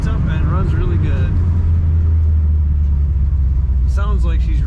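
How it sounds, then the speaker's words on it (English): A 1965 Ford Falcon engine idles with a steady, loud, low rumble close by, running smoothly throughout while someone talks over it at the start and again near the end. "starts up and runs really good"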